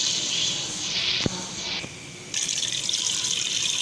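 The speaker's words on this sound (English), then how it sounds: "So now we will add the water" Water runs from a tap into a cooking pot for daal gosht, a steady splashing hiss that breaks off briefly near the middle and then resumes at full strength, close and fairly loud, with no talking.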